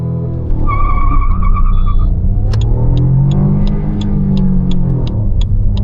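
Toyota Urban Cruiser Taisor 1.0L turbo manual engine revving hard at a standstill before launch, a loud close rising roar with rhythmic ticking clicks, heard alone.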